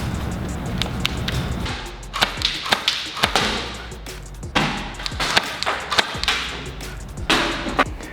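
A Silverback gel blaster with a nylon gearbox fires repeated semi-auto shots through a chronograph, giving sharp snapping cracks at an irregular pace over steady background hum.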